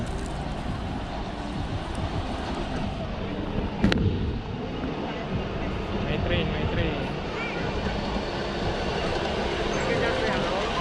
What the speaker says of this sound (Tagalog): It's high speed train.